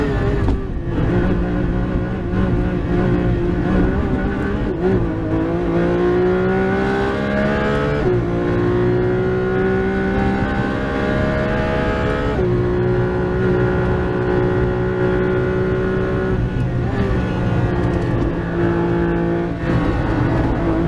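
Porsche 911 GT3 RS engine at full song on a Nordschleife record lap, a loud, sustained high-revving wail with rising pitch sweeps through the gears and brief dips at shifts, no voices.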